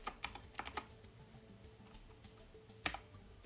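Quiet, close keystrokes on a computer keyboard come in a short burst of several taps, then a pause, then one more clicking cluster, with no voices.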